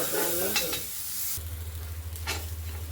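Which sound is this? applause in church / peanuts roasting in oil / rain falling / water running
peanuts roasting in oil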